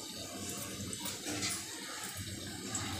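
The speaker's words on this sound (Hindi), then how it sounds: "पानी में उबाल आ गया है फ्रेंड्स" Water boils in a pot on a gas stove while a herbal decoction is made, a faint, steady bubbling and hiss with small irregular surges, close but quiet.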